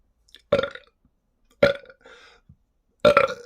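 Three loud, close burps come one after another at roughly even intervals, separated by brief silences, with a softer gurgling sound after the second.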